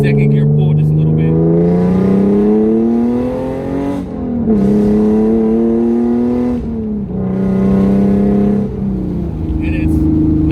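A Hyundai Genesis Coupe with an aftermarket exhaust and a clutch being broken in pulls hard in second gear, its loud engine note rising steadily in pitch over several seconds, easing briefly between surges, heard close from inside the car.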